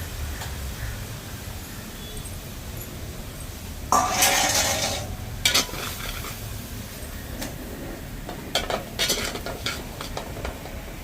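Mustard seeds crackling and sizzling in hot oil under a low steady fry, with a few sharp bursts of popping and metal utensil clinks against the pan.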